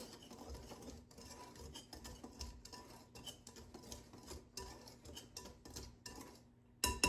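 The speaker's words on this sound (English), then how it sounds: "So this right here is my dry ingredients. So I'm gonna kind of mix that up a little bit." Dry muffin ingredients, including sugar, are stirred in a bowl for blueberry muffins: quiet, continuous scraping and light clinks of a utensil against the bowl.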